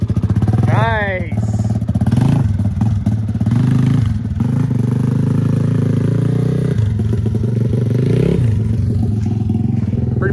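A Honda ATC 70 three-wheeler's small engine running loud and close, revving up and settling back several times, with people talking over it.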